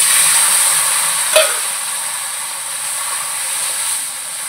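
Eggplant and potato pieces fry in hot oil with cumin for a hilsa fish dish, producing a loud, steady hiss with a brief sharp crackle near the start.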